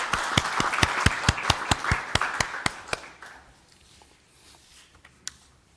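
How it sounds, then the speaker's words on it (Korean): Brief, sparse clapping from a small group welcoming a newly appointed vice-chair at a government senior secretaries' meeting, about a dozen distinct claps over three seconds that then fade into quiet room tone. "박수로 환영 주시기 바랍니다."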